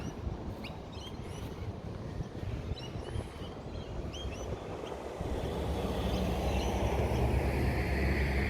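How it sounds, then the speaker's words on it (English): An outdoor breeze gusts through a rose garden, a steady broadband rush that grows heavier partway through. Faint bird chirps come through now and then, and no one speaks. "There's a beautiful breeze out today."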